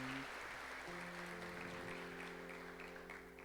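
A church congregation claps together at moderate volume while sustained organ or keyboard chords hold underneath, the applause slowly thinning toward the end.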